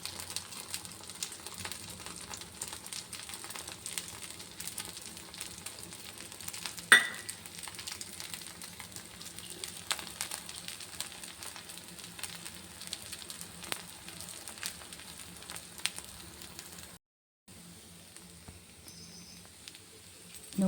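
Paddu fry in ghee and oil in a pan, giving a soft continuous crackling sizzle with scattered pops and a sharper clack partway through, steady and close, then a brief silence before the sizzle resumes faintly.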